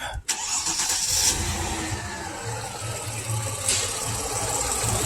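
A 2002 Mercedes ML320 with a misfiring cylinder cranks and starts after a sharp click, then settles into a steady idle. The engine sounds loud and close.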